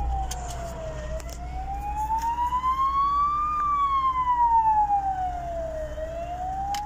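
A police or emergency vehicle siren wails close by on a German motorway, sweeping slowly up and down in pitch as it passes stationary traffic, loud and steady over a low road rumble.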